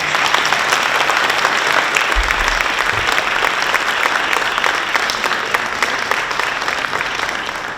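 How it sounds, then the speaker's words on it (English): Sustained applause from an audience at a diversity awards ceremony, a steady dense clapping crowd that holds for several seconds without talk, loud and even throughout. "Let's give the parents and teachers a round of applause."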